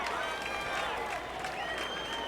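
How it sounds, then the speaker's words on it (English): A crowd in red packs the stands at a Florida state championship lacrosse game, cheering and clapping in a steady roar from both sides, with voices mixed into the din. "Fantastic crowd"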